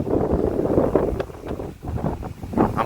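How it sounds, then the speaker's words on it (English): Strong gusts buffet the microphone outdoors at a high lookout near the bridge and road to the old Morrell estate, producing a rough, low rumbling roar that surges and dips throughout. "But this wind is really killing me"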